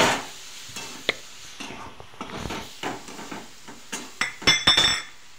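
A spoon stirs tomatoes around a pan for egg fried rice, with repeated metallic clinks and scrapes in an uneven rhythm under a gentle sizzle, close and moderately loud.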